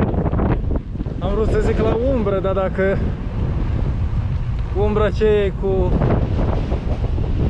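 Wind gusts buffet the microphone while riding a bicycle along the Bega river toward the Serbian border, a steady, rough rushing close by, with someone talking over it.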